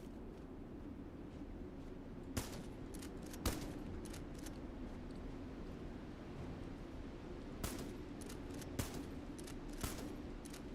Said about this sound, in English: They do not hear me shooting mines behind them